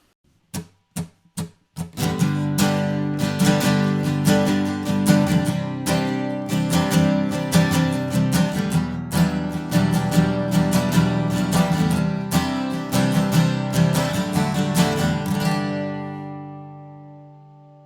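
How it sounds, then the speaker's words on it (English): A G barre chord on an acoustic guitar: a few single strums ring out, then a steady run of rhythmic strumming that lets the final chord fade away, played alone and up close. "Or you can play it with a bar chord."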